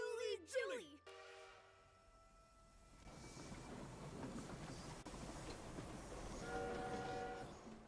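A train in the video game Infinity Nikki pulls in with a rumbling, rattling rush that swells steadily, joined late by a tonal horn-like blare, following an opening burst of chirpy synthetic voice sounds.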